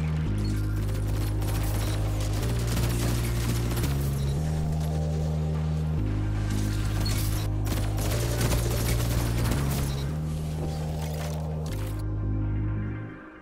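A crafted pulse rifle fires in bursts in a Destiny 2 PvP match, rapid loud shots layered over sustained droning game music that shifts pitch in steps before cutting off near the end.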